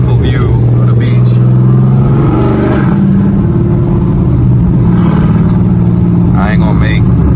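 A tuned Dodge SRT with an aftermarket cam rumbles loudly and continuously from inside the car on a drive, its engine note rising and falling while people talk over it.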